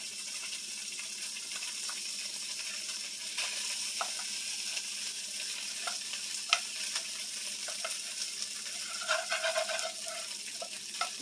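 Rice tossed in hot oil in a pan for pork fried rice, a steady close sizzle with scattered scraping and stirring clicks, a few louder spoon knocks near the end, no talking.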